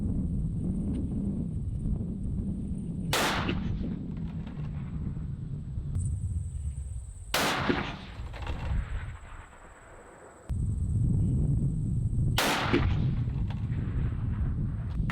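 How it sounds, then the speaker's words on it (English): A 7mm PRC rifle fires a three-shot group at the range: three sharp, loud reports spaced about four to five seconds apart over steady wind and background noise, with no talk. "going for first shots here"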